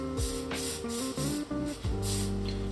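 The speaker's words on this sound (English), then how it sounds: "I just spray it into the small hole that they give you on the rubber" Several short bursts of hissing spray onto rubber for a speargun band, close and fairly loud, spaced irregularly over a steady background hum.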